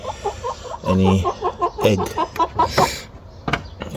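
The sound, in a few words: chickens clucking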